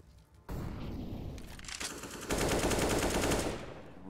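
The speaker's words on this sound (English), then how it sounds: "Rubino with this wall bang again." Wallbang gunfire through a wall in CS:GO on the Vertigo map, rapid bursts of automatic shots that start abruptly, fill the clip loud and close, then thin out near the end.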